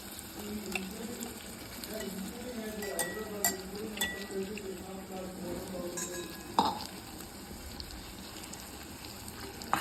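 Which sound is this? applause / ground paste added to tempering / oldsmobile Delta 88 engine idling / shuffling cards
ground paste added to tempering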